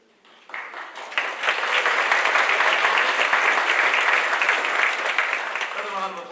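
Applause at a school wind ensemble concert and senior awards honoring marching arts scholarship winners: after a brief quiet moment, a full, sustained round of clapping swells up and continues steadily, with a voice near the end.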